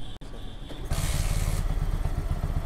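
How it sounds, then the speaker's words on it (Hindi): A Bajaj Pulsar NS160 BS6 motorcycle with a throttle body fault starts up close by: a short crank, then a sudden loud catch into a steady, rumbling idle that carries on to the end. "तो दोस्तों चलिए बाइक को स्टार्ट करते हैं। चलो बाइक स्टार्ट करो।"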